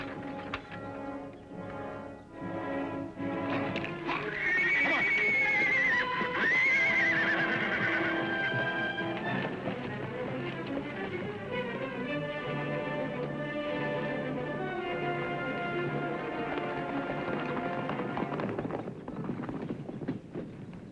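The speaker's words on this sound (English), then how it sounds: "All right, Ed, unhook the horses." Horses whinny loudly, with rising and falling neighs over a steady clatter of hooves and a busy background.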